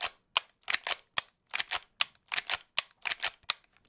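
An AR-15 rifle fires at a watermelon-sized target 50 yards away: about fifteen sharp, loud cracks in quick, uneven bursts, with silence between the shots and no talking.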